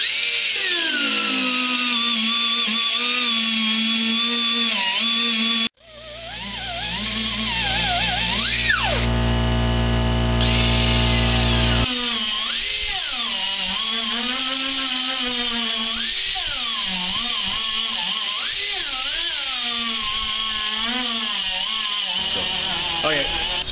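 Harsh, high-pitched grinding of a coarse-grit sanding disc on metal rivets, loud and continuous, with pitch wavering as pressure changes and a brief pause near the start.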